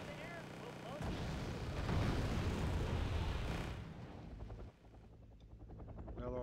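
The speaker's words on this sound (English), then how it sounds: "Nice explosion." An explosion in the real-time strategy video game Wargame: Red Dragon, a loud rumbling blast that swells and rolls for several seconds amid helicopter rotor noise and distant battle sounds.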